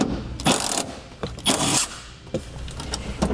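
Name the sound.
ratchet removing 14mm bolt from car cargo hook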